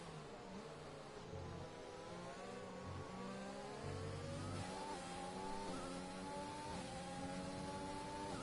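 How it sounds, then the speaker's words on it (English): Race car engines during a WRL endurance round in Spain, loud high revving whines rising and falling through gear changes as cars pass, several overlapping engine notes sweeping upward, with no talk over them. "let you listen to the sound of the engines"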